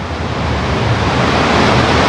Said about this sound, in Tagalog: Yan, dagat! Wow! Dagat!